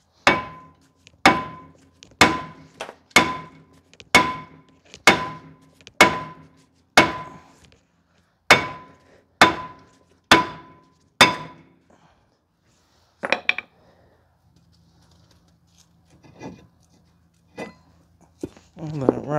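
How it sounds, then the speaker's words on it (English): A hammer strikes a metal front brake rotor of a 2010 Subaru Outback 3.6 about a dozen times in a steady rhythm, each ringing clang decaying quickly, followed by scattered softer clanks. "Now I use the BFH hammer. And give it a whacking."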